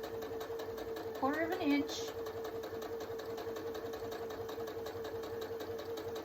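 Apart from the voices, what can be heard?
sewing machine stitching fabric for a four patch quilt block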